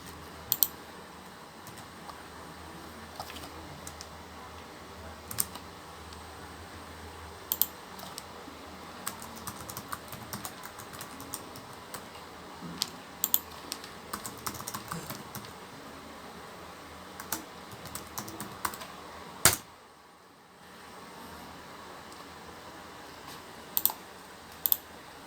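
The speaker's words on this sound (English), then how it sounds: "type in password Cisco" Computer keyboard typing a password during a Cisco networking lab, sparse clicks and short bursts of keystrokes at moderate level over a quiet hiss, with a brief dropout near the end.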